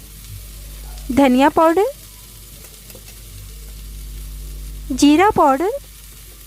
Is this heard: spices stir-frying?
yes